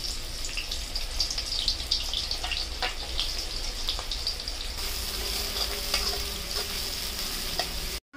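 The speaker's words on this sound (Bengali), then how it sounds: "আমি এখানে সাদা তেল গরম চাপিয়ে দিয়েছি, আমি বেরেস্তাটা ভেজে নেব।" Sliced onions frying in hot white oil, a loud continuous crackling sizzle with stirring scrapes and clinks close by, holding steady until it cuts off abruptly near the end.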